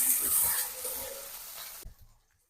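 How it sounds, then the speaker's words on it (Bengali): Onion and chilli fry in oil in a pan with a strong sizzling hiss and soft stirring scrapes, fading abruptly to near silence toward the end. "পেঁয়াজ আর মরিচ দিয়ে দিলাম।"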